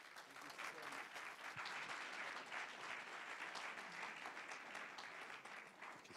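A seated audience applauds after a presentation, steady even clapping from many hands held for around six seconds, fairly distant and soft in level, with no speech over it.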